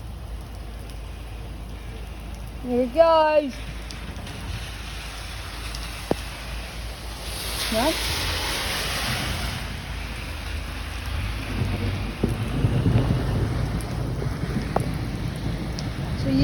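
Heavy rain pours steadily through a thunderstorm near a big river, with a low rumble swelling in the middle and later, while a person speaks briefly over the downpour.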